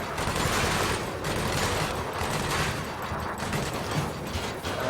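Ship guns firing in Elite: Dangerous, a dense continuous rattle of rapid shots with a mechanical, ratcheting texture, loud and sustained with no pauses.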